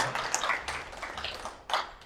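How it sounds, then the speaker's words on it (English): A few scattered claps from an audience at a hospital prehabilitation program presentation, brief and moderately near, with no voices over them. "That's a clap moment"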